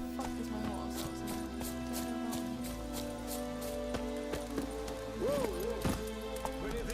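Hooves clip-clop in a steady galloping rhythm amid a busy game soundscape in The Witcher 3: Wild Hunt, with a low hum underneath and a few whooshing tones late on.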